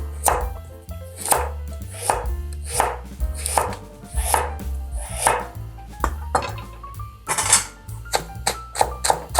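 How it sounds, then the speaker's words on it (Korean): A knife chops a carrot on a board in brisk, close, regularly repeating strikes, about a dozen sharp thuds over several seconds with no talking. "당근은 3분의 1만 썰어 넣을게요."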